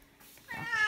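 A cat meows once, a clear rising call that builds in the second half after a quiet start, heard close and alone.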